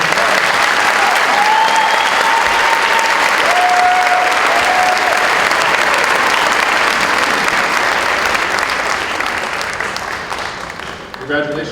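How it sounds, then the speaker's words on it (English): A high school awards evening crowd applauds an award recipient with sustained, loud, dense clapping that holds steady for most of the stretch and eases off toward the end. "And now we'll give him a nice round of applause."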